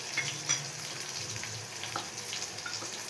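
Two tablespoons of coriander seeds crackle steadily in a pan for a Telugu bottle gourd chutney, a soft continuous sizzle with faint stirring scrapes throughout and no talking.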